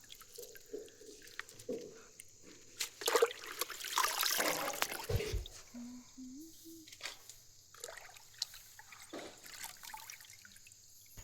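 Leafy greens are washed by hand in well water, with trickling, splashing and sloshing in a basin, one louder burst of pouring water in the middle, and faint background sounds between the splashes.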